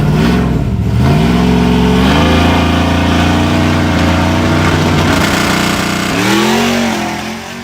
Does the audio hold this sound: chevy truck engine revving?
yes